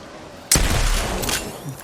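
A single sudden burst of video game gunfire cracks in loud and close after a moment of quiet, then rings out and fades over about a second.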